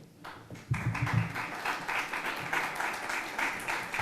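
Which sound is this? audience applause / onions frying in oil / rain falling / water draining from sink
audience applause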